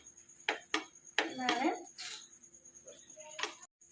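A bread snack is flipped in a cooking pan, giving a few sharp, close clinks and knocks of utensil on metal with brief scraping between them, while a voice talks quietly.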